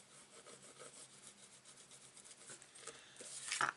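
Bone folder rubbing along a score line on cardstock, giving a soft steady scraping rub close up, faint and continuous, a little stronger toward the end.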